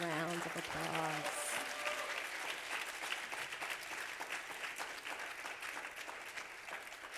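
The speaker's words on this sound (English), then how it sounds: "please give them one more big round of applause" A crowd bursts into sustained applause that fills the room, a voice briefly heard at the start before the clapping takes over.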